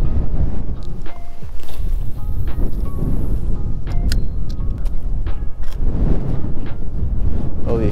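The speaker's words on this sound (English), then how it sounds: "There's the wind." Strong wind buffets the microphone outdoors at a trout fishing spot, a loud continuous roar with gusts and no one talking.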